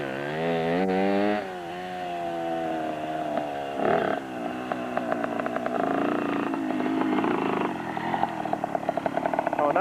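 A motorcycle engine revs on dirt, its loud harmonic drone rising and falling through several throttle blips, then settling into a rougher, crackling run toward the end.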